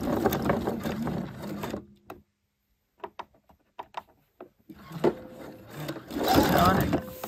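Sewing machine stitching curtain gathering tape, its motor running in loud bursts at the start and end, with quieter clicks and brief pauses in between.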